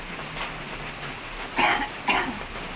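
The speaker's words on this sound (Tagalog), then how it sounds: "Hindi na humintang ubo mo kahit may gamot ka po" Two brief coughs, close by, near the end of a quiet stretch with soft background noise.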